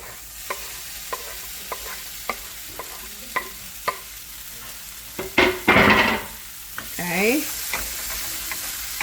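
Onion and chile frying in a pan for Mexican beans, a low steady sizzle broken by sharp regular spatula taps and a louder burst of scraping stirs; a voice speaks briefly.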